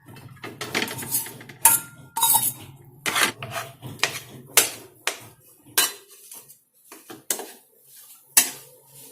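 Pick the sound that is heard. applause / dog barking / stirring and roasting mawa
stirring and roasting mawa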